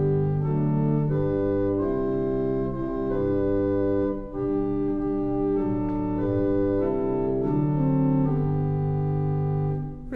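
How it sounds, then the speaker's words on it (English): An 1885 Moline Organ Company pipe organ in a Galena, Illinois church, played with unison bass and an 8-foot open diapason stop, giving sustained full chords with a deep, steady bass, loud and continuous without pauses. "you would have that unison bass on with the 8-foot open diapason, and it would sound like this"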